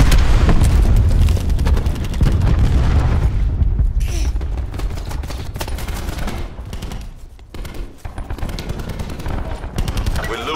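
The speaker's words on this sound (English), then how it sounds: "Throwing cluster grenade." Cluster grenade explosions in a video game firefight burst as loud, dense booms alongside rapid gunfire, with a voice talking over the chaotic battle noise.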